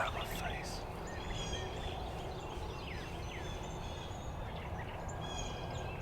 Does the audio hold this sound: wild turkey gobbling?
yes